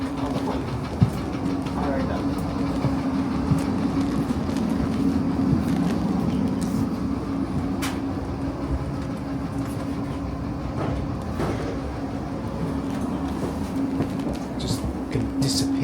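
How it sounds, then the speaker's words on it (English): A British Rail Class 455 electric train pulls into a station, its steady rumble and droning motor tone running throughout with faint clicks from the rails, with people talking over it at moderate distance. "It's a 455 just coming in."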